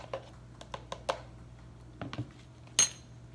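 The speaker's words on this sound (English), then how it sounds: "Stir that all together." A spoon clinks and taps against a bowl while a kabob marinade mixture is stirred together, giving a series of light, irregular clicks and knocks, then one sharper clink near the end, all close and quiet.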